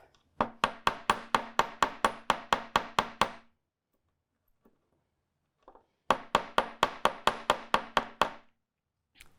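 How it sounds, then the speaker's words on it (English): Two runs of rapid, evenly spaced hammer blows ringing on metal while shaping wire earrings, about a dozen strikes each, separated by a short quiet gap. "you can really direct your metal and force your metal with your hammer"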